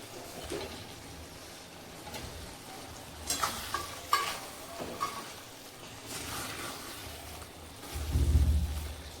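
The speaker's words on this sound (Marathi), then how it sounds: "आता त्यामध्ये मी फ्राय केलेले पनीर टाकते" Fried paneer tipped into vegetable pulao in a pan and stirred through, soft sizzling under scraping spoon strokes and a few clatters, quiet and close.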